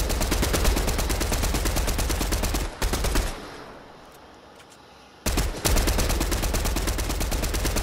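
Fortnite gunfire: rapid, loud bursts of automatic shots in steady rhythm, broken by a brief lull of quieter background sound before the firing resumes just as heavily, with no talking.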